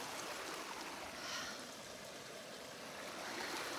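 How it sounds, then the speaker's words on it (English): A mountain creek rushes along a Colorado trail, a steady, broad wash of flowing water heard close and continuous, with no voices over it. "Okay, we found the creek."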